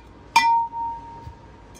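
A ceramic cookie jug with a ceramic cork gives a single sharp clink as it is handled, followed by a ringing tone that fades slowly and a faint soft knock near the end.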